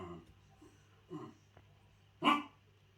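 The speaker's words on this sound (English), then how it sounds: "my dog wants some attention" A dog in a home workshop barks a few times, with two softer barks followed by one louder, sharper bark over a low electrical hum.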